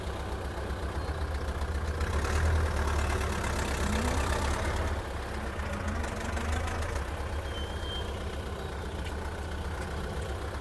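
A T-40 tractor engine, just rebuilt after a clutch repair, pulls off in fourth gear across a field. Its close diesel drone is steady and knocking, swelling slightly louder for a few seconds before settling back to an even chug.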